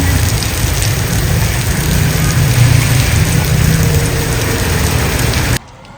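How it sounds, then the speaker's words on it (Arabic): Steady heavy rain with hail pours down outdoors around a house, a dense continuous hiss and patter that holds for several seconds before cutting off abruptly. "وكان مطر ونزل حب برد ونحن برا البيت"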